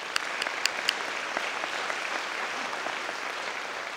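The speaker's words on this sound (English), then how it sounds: "And I think that deserves a round of applause as well." A crowd applauds steadily, dense clapping from many hands filling the room, with a few sharper claps standing out near the start.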